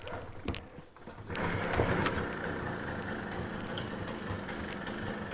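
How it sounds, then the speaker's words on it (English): A 1980 Puch Newport II moped with a ZA50 motor is pedaled with the left lever held in, then catches and settles into a steady, close running drone that continues evenly to the end. "That's how you start a 1980 Puch Newport 2"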